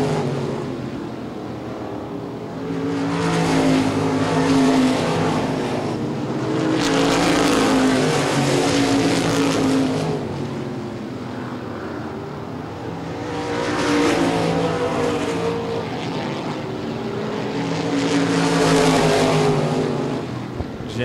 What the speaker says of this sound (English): Jackson sticks it to the bottom of the track, gets a bit of an advantage on Coit closing their gap